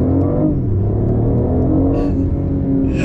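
A BMW car accelerating, a steady loud engine rumble with rising harmonics, heard close from inside the cabin with no talk.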